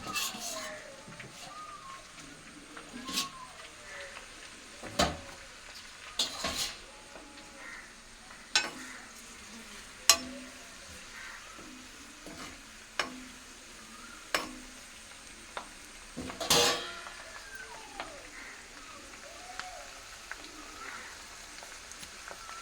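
Fenugreek seeds and curry leaves frying in oil for a homemade hair oil, a soft steady sizzle broken by scattered pops and stirring clinks, fairly quiet with no talking.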